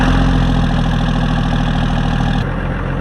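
A 2nd-generation Cummins diesel truck engine idles while warming up, a loud, steady low rumble close by with an even knocking pulse and no talking.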